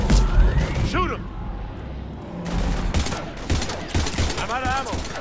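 Gunfire in Mass Effect 3 crackles in short bursts between stretches of game noise, with voices and action sounds overlapping the shots.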